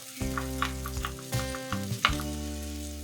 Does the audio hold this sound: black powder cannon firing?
no